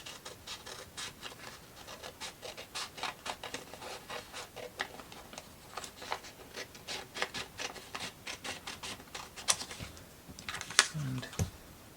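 Paper book covers are trimmed with a quick run of short, dry rasping cuts, close and fairly quiet, in an uneven but steady rhythm.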